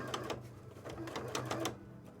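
A sewing machine stitching fabric arm wings for a cosplay costume, a steady close mechanical whirr with rapid needle ticks that runs through the whole short stretch, and no voices.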